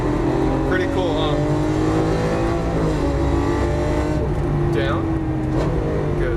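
A Lamborghini Aventador LP700-4 drives a lap of a race track at Exotic Racing Las Vegas, its engine droning loud and steady from inside the cabin with shifting pitch as it revs. A voice talks over it.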